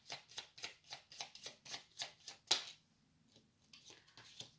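Tarot cards being laid down one after another in a steady rhythm of soft slaps and slides, close by, then a brief pause before a few more quiet handling sounds.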